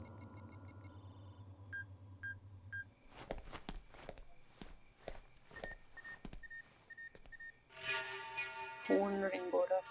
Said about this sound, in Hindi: फोन रिंग हो रहा